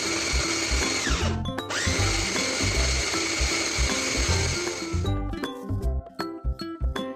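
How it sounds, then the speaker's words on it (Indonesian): An electric food chopper minces chicken, whirring loudly in sustained bursts, briefly stopping and restarting, then ending with clattering and rattling. "kalau udah dimasukin semuanya, ini mau aku chopper aja"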